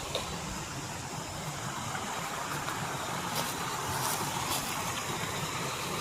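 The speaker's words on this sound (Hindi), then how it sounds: "छोटा है पर वाटरफॉल है भैया।" A small waterfall on the way to Binsar in Uttarakhand gives a steady, broadband rush of falling water. The roar holds level and close for the whole stretch, with no voices over it.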